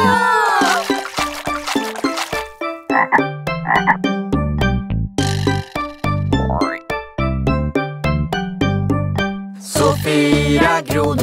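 Cartoon frogs croak over and over in a lively children's farm song, their loud rhythmic croaks and blubbing calls woven through the bright, bouncy music.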